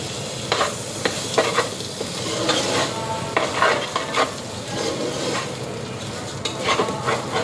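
Ginger fries in hot oil for restaurant-style white pulao, a steady close sizzle with repeated scraping stirs of a spatula across the pan and no voices.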